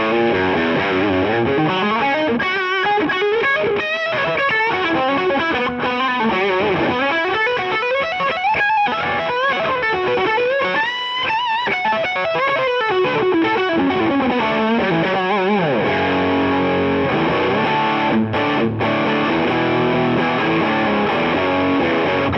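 Distorted electric guitar solo lead through an Echoplex preamp boost with stacked gain pedals, playing continuous fast melodic lines with bends, loud and sustained throughout with no voice.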